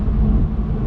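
A 1997 Porsche Boxster's 2.5-litre mid-mounted flat-six engine gives a brief, loud, close rumble with a low throbbing drone, heard alone.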